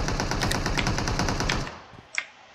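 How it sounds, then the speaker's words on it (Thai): Rapid automatic gunfire in PUBG Mobile rattles loudly and continuously for a second and a half, then stops, followed by one sharp distant shot. "เสียงปืน"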